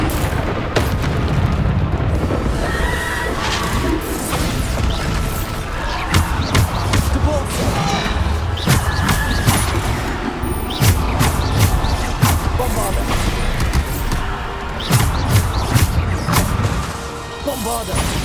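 Bombarda spell blasts in the Hogwarts Legacy video game, repeated loud booming explosions and crashes in quick succession amid busy combat effects, with a voice heard at times.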